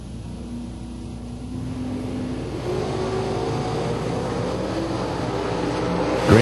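Bracket drag race cars, including a 1963 Corvette Roadster, rumble and launch at a drag strip, with engine noise swelling from a steady idle into a louder roar heard from a distance.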